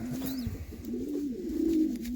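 Racing pigeons in a breeding loft give a low, continuous rolling coo that swells and dips close by, with faint background rustling.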